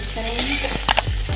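Boiled potato pieces with turmeric being stirred in a hot frying pan, a brief sizzle with a couple of sharp spoon scrapes and knocks near the middle.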